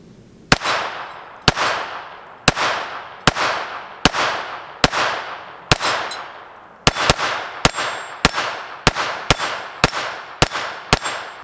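A KelTec P17 .22 pistol firing Remington Thunderbolt ammunition at small targets: sharp, loud shots come in a slow steady string, then a quicker volley of about ten, each with a ringing, echoing decay.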